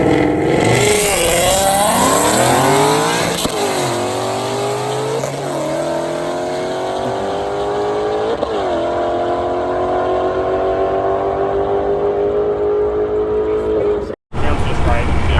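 Procharged Mustang and ZL1 Camaro engines, heard as repeated loud revs rising and falling in pitch through several gear-like sweeps, close and continuous, ending in an abrupt cut, with voices underneath.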